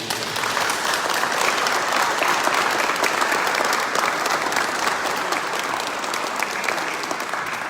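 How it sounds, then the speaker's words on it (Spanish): Following a talk on the situation in Ukraine, an audience gives Teresa a round of applause, a dense, steady wash of many hands clapping that holds for nearly eight seconds. "se le da un aplauso a Teresa."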